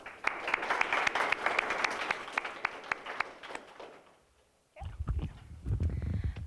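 Audience applause at a panel event welcoming the panelists, a dense burst of clapping that fades out midway, followed by low rumbling and scattered room noise.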